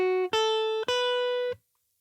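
A gospel guitar plays a short motif of three clean sustained notes, each plucked close and clear and ringing before the next, with the last note stopping abruptly.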